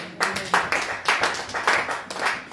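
A church congregation claps in praise in rhythmic bursts, with about eight or nine loud, closely grouped beats of hand clapping, fairly close and echoing slightly in the room.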